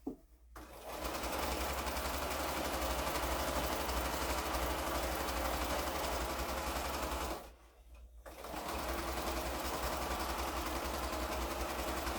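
A sewing machine stitching quilt fabric runs steadily and loudly with a fast mechanical whir, pauses briefly, then resumes at the same even pace.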